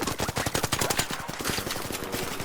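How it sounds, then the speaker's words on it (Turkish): Rapid bursts of automatic gunfire in the video game ARC Raiders, a loud, close, densely repeating crackle of shots running throughout with no pauses. "Bana sıkıyor bana sıkıyor."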